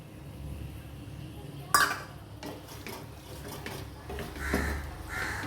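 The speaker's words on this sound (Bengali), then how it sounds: "দিয়ে ভালো করে এবার একটু কষিয়ে নেব।" A paste of ginger, garlic and coriander sizzles and gets stirred in a pan, with soft scraping, a sharp clatter of the utensil against the pan, and a quiet kitchen hiss around it.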